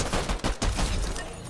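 Rapid video game gunfire, a dense fusillade of loud shots crackling almost continuously with a brief gap mid-burst, heard alone without talk.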